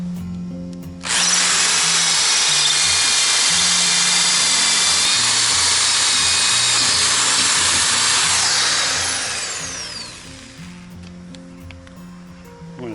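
A power drill bores through metal while mounting an 8 hp Honda outboard on a Polarkraft 1460 boat: a loud, steady high whine starts abruptly, holds for about eight seconds, then fades and stops, under a low engine-like hum.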